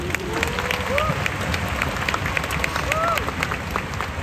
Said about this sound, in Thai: ขอเสียงปรบมือให้ตัวเองหน่อยครับ